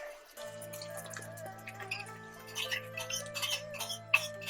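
A mix of water and cornstarch sauce is poured into a pan of Chinese eggplant in hot garlic sauce, a steady trickling, dripping pour close by with faint background hum and no talking.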